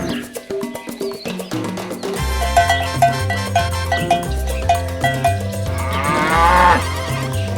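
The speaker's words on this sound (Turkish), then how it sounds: "çiftlikte otlayan bir inek onu fark etmiş." A cow grazing on a farm gives a long, wavering moo near the end, loud and close, under a bouncy background music track that plays throughout.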